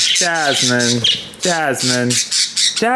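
A pet budgie parakeet squawks in loud, harsh, close bursts, several rasping calls in two clusters with brief gaps between them.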